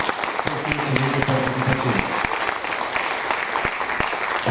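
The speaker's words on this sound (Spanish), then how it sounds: "un aplauso por favor para la doctora Ingrid Díaz por su excelente" Audience applause at an anti-corruption conference, a dense, steady clatter of many hands clapping that carries on for several seconds at moderate loudness, with no talk over it.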